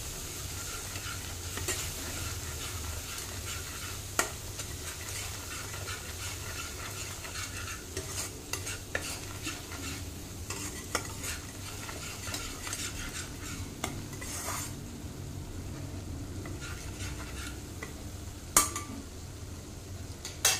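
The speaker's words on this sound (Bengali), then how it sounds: "এই সময় আমি একটু হলুদ দিয়ে দেবো, লঙ্কার গুঁড়োটা দিয়ে দেবো, আবারও ভালো করে কষিয়ে নেব" Masala with turmeric and chilli powder sautéed in a pan, with a continuous oily sizzle and frequent spoon scrapes and clinks against the metal, steady and close throughout.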